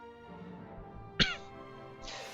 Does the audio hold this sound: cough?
yes